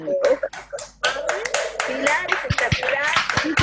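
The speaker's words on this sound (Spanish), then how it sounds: "le damos un enorme aplauso al profesor, Pilar," A few people clap unevenly through open microphones after a Spanish-language online history talk, with scattered hand claps, a voice and other voices speaking over the applause.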